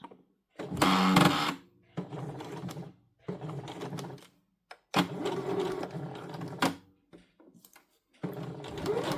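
A sewing machine stitches along the edge of a fabric scrunchie, running in several close, loud bursts of mechanical whirring separated by short pauses.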